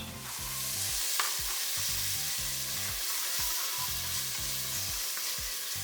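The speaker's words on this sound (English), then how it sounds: "I've got my garlic and my ginger. I'm going to add that in." Garlic and ginger fry in a pan with a bright, continuous sizzle. Low, regularly spaced pulses of a hum run underneath, and no one talks.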